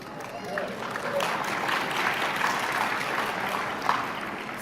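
Audience applause in a conference hall, a moderate, even patter of many hands clapping throughout, slightly distant and without any distinct speech on top.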